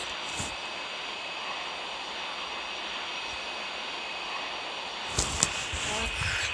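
Airbus A380 jet engines in Flight Sim 2018 give a steady, loud broadband roar throughout, with a brief burst of extra noise near the end.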